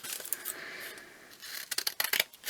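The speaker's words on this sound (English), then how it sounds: "I only wanted to cut paper off." Scissors snip through paper while a Halloween journal is being made, a quiet close series of sharp cuts with a soft paper rustle, sparse at first and then quicker snips near the end.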